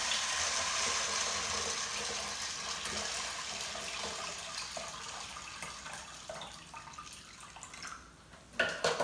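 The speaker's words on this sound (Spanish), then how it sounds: "Ahora le voy a echar agua." Water poured into a small pot of beans in a kitchen, a steady splashing, gurgling stream that gradually deepens in tone as the pot fills, ending with a few clattering knocks.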